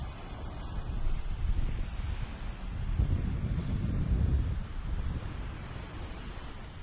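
Wind picking up by the sea at sunrise, a steady low rush with a swelling gust in the middle, blended with the soft wash of waves and some rumble of wind on the microphone.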